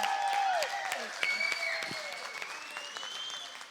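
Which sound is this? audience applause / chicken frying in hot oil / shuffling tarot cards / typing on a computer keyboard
audience applause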